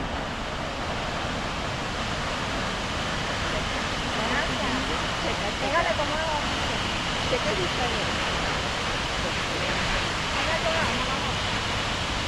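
A waterfall in Nikko, Japan, below a volcanic mountain, fills the air with a constant broadband roar, even and unbroken, with faint voices briefly audible beneath the rushing water.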